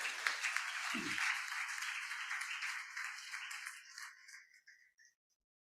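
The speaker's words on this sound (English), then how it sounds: "please give a round of applause for the BOS team over here" An audience at a Teachers' Day programme gives a round of applause for the Board of Studies team, many hands clapping steadily before gradually thinning out and fading to silence.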